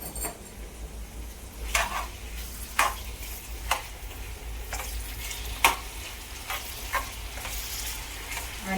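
Onions frying with a pinch of salt in a pan for dhaba-style chicken tikka biryani, a steady close sizzle punctuated by sharp periodic stirring scrapes and clinks of a utensil against the pan, no talking.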